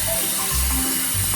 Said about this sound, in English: Let's open the water.